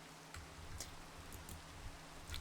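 Rain falling in the Minecraft video game makes a quiet, steady hiss with a few faint scattered ticks. No one speaks over it.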